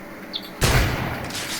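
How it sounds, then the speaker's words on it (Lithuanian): Grenade explosion in the video game DayZ: a single sudden loud blast with a sharp onset, its rumbling tail fading over about a second. "granatas sprogo."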